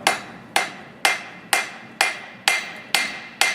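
Hammer blows on a horseshoe being shaped at the forge during shoeing, eight sharp metallic strikes landing in a steady rhythm about half a second apart, loud and close with short ringing decays and no talking.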